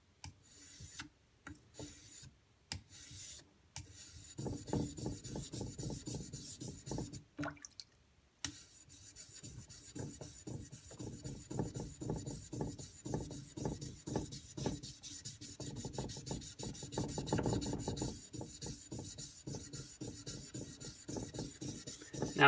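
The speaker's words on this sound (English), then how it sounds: "The steel doesn't feel like it's slipping. It feels like the abrasive's actually grabbing hold of it now." A steel knife blade is rubbed back and forth on a Suehiro whetstone in steady, rhythmic gritty strokes, quiet and close, with a few pauses early on.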